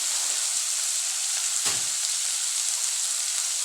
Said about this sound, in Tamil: இப்போ வந்து நல்லா வதங்கட்டும்